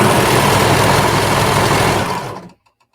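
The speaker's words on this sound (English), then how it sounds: "I had to get a new serger" A serger sewing machine runs steadily at high speed, a loud, close, continuous mechanical whir that holds for over two seconds and then winds down and stops abruptly.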